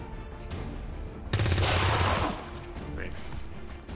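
A burst of rapid automatic gunfire in the video game XCOM 2: War Of The Chosen rattles for about a second, loud and dense, with game sounds before and after.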